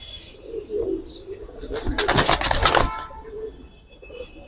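Original jelly pigeon, a Giribaz high flyer, gives a loud burst of wing flapping in the middle, with faint cooing before and after; someone speaks nearby.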